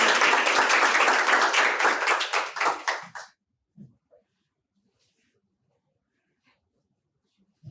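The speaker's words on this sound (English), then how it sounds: "Give her a round of applause." An audience at a law and technology policy hackathon applauds for about three seconds, a bright dense burst of clapping that tapers off quickly into near silence, followed by a few faint handling knocks.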